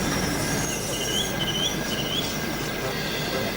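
A model train in the Trainz simulator rumbles along with high-pitched squealing from its wheels as it slows to a stop outside a platform, the screech wavering over a steady mechanical drone.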